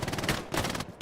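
Rapid machine gun fire in the World War II shooter Hell Let Loose, set in Hurtgen Forest, a dense continuous burst of close, loud rounds.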